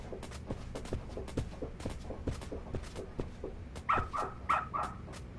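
A dog in the Lost Judgment video game gives a few short barks and whimpers among shuffling footsteps, with the clearest yelps arriving near the end and the sounds staying moderately quiet.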